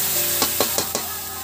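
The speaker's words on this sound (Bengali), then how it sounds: "এবার বেশ কিছুক্ষণ এটাকে মশলাটাকে কষে নেব।" Ground spice paste with homegrown tomato sautés in a pan as a spatula scrapes and stirs it in four quick, evenly spaced strokes over a low, constant sizzle.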